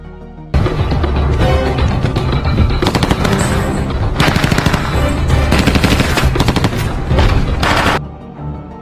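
Heavy gunfire from police training in an action film: dense, continuous bursts of automatic shots with brief pauses, loud and close, running for about seven seconds with no talking.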